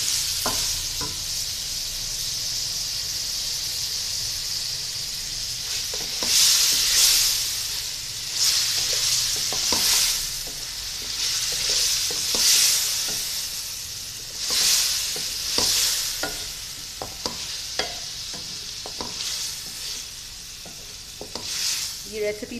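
Meat and green chillies fry in olive oil for a yakhni pulao, a steady close sizzle broken by repeated louder bursts as a utensil stirs the pan.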